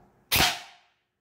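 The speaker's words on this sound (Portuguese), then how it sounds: "Pista quente, vamos para o primeiro disparo." Neptune 10 Plus airsoft gun firing a single 0.25 BB, one sharp close pop with a brief fading tail, alone with no talking.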